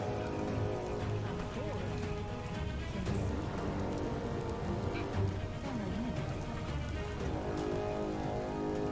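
Steady rain falling in the video game Biomutant, a continuous patter of drops on surfaces under background music and a speaking voice.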